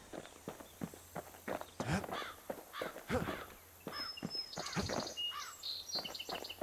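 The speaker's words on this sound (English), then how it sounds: "Hearing the crows in the game has me feeling schizo" Crows caw in a mobile video game: a string of short, harsh calls repeats over soft footstep-like clicks, with faint electronic chimes near the end.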